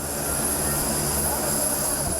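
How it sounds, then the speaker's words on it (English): Airplane arriving at an airport during a crisis evacuation, heard as a broad, steady engine roar with a high whine, fairly loud and continuous, with faint background voices underneath. "Back at the airport, the arrival of a plane starts the frantic scramble for seats."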